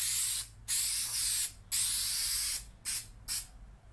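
Contact adhesive sprayed from an aerosol can onto a sheet of ABS during a 1947 MG TC rebuild, heard as five short hissing bursts of varying length separated by brief pauses, close and alone.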